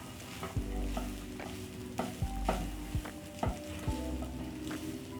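A spaghetti mixture is stirred in a pan with a soft sizzle underneath, and a spoon scrapes the pan in regular strokes about every half second, fairly quiet and close, with no speech.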